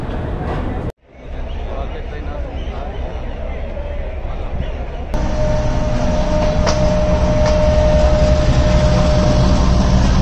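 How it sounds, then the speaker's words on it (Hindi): A train departs from Karachi Cantt station, a loud close rumble with rolling clatter of railroad cars that grows heavier partway through after a brief cutout, with a faint whine mixed in. "ट्रेन जा रही है खटागढ़"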